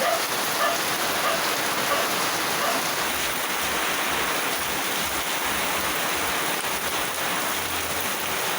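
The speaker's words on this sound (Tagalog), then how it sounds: "Ngayong morning nagsimula yung lakas ng ulan dito sa amin talaga." Heavy morning rain pours steadily in a windy storm, a dense, even hiss of drops close by that stays constant throughout.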